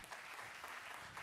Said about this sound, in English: Big round of applause for our speakers.